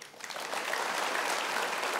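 Dense clapping from a crowd swells quickly and holds steady, an even wash of applause with no voices over it.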